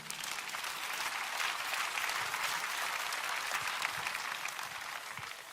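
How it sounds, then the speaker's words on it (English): Congregation applauding at a church service, a sustained, even wash of clapping from many hands that swells and holds for several seconds, without talk over it. "Let's clap for Jesus Christ"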